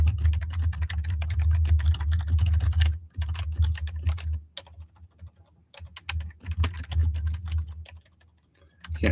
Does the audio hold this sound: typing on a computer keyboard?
yes